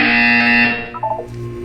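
A loud, harsh electronic buzzer in the video game Portal 2 blares steadily for under a second, then cuts off, followed by a few brief tones.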